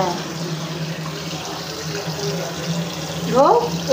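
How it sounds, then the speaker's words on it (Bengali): Hands being washed with hand wash under a running tap at a sink, a steady hiss of flowing water throughout with voices talking over it. "এই জন্য হ্যান্ড ওয়াশ দিয়ে হাত ধুতে হয়।"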